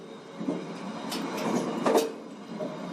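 A toilet door latch clicks shut aboard a modified economy-class train, Gaya Baru Malam Selatan, a brief metallic clack over the steady rumble and rattle of the moving carriage.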